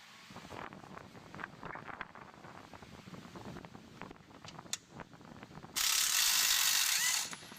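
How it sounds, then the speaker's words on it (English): An Ingersoll Rand 3/8 hammerhead air ratchet on a Titan bolt whirs near and loud in a dense mechanical clatter, ending in a sharp, hissing burst of air for about two seconds. "I'll show you how the Ingersol Rand holds up the hammerhead to this Titan bolt."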